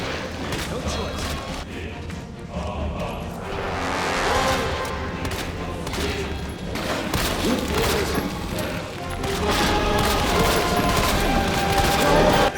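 Rapid, sustained gunfire from the Resident Evil 2 Remake "The City of the Dead" mod, dense bursts and booms running continuously at loud, steady level with game noise underneath.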